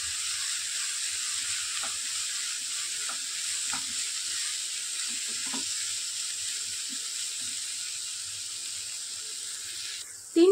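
Red chilli powder, Malvani masala and coriander powder sizzle steadily in a pan for a prawn cashew curry, with faint scrapes of mixing underneath and a sudden clatter at the very end.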